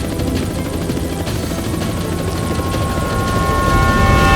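A helicopter's rotor thrums steadily and loudly throughout, a continuous whirring roar with a faint engine whine that grows slightly louder toward the end.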